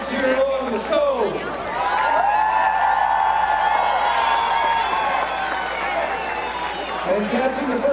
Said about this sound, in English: I want you all to help cheer it on.